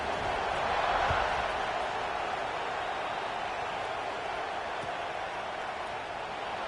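Football stadium crowd at a Huskers at Volunteers game around kickoff, a broad, steady roar of many voices that stays loud throughout with no single sound standing out.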